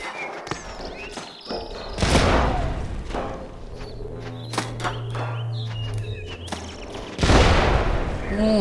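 A bomb explodes in the Badland video game, with several dull booms and thuds over a low ambient drone and scattered clicks. A loud burst lands near the start and another near the end.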